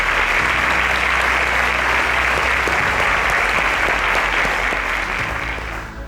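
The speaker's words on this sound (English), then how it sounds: "A round of applause for him." Studio audience applause on a quiz show rewarding a correct answer, a dense, steady wash of clapping that carries loudly from start to finish and tapers slightly at the end.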